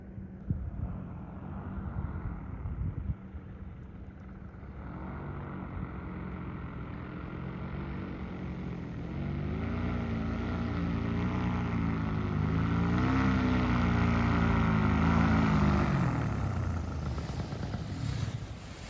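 A paramotor flying in to land over a North Carolina mountaintop, its engine drone rising and wavering steadily under wind buffeting on the microphone, growing louder as it nears, then easing off near the end; no one speaks.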